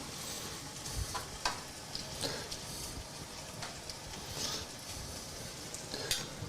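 Squid pad thai sautés in a hot pan, giving a continuous soft sizzle with scattered utensil clicks and scrapes as the food is stirred.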